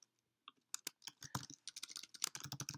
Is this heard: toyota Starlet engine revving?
no